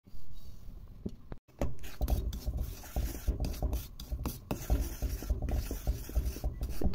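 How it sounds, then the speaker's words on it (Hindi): Semolina dry-roasted in a pan for dates halwa, a continuous close scraping and rasping of grains being stirred, with a few brief pauses and no talk. "मैं ड्राई रोस्ट कर रही हूँ"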